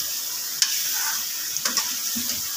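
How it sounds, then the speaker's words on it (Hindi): Garam masala and whole spices fry in hot oil in a karahi pan for Peshawari Shinwari karahi, a steady close sizzle. A few scraping stirs and light knocks of a utensil against the pan cut through it. "सारे मसाले हम लोगों ने एक साथ डाल के अब इसे हम लोग अच्छे से भून लेंगे।"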